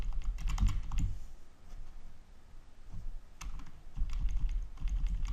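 Rapid typing on a computer keyboard, entering Korean text with the Hanja key, close up, with irregular bursts of key clicks and short pauses between them.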